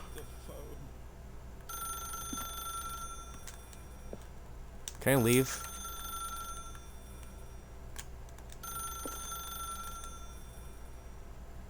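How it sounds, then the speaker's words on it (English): A telephone rings in The Stanley Parable video game, a repeating electronic bell in spaced bursts over a low room hum, with someone speaking briefly in between. "If you can truly place your faith in another, then pick up the phone."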